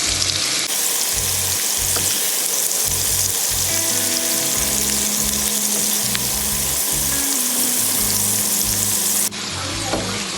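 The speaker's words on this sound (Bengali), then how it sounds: "পেঁয়াজ থেকে আমি একটু হালকা লাল করে নেব হালকা লাল করবো একদম ব্রাউন কালার করবো না" Onions frying in oil until light red in a pan, giving a loud, steady sizzle that runs throughout with low irregular scraping and thumping underneath, and no talk.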